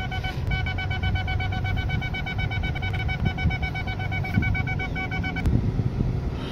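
A car's parking sensor sounds a steady run of rapid, evenly spaced electronic beeps close by, over a low engine hum, on a vehicle at a used car market in Saudi Arabia.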